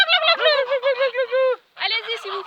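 Turkey gobbling on a farm in the Loire: two loud, close bursts of rapid warbling gobbles, separated by a brief pause.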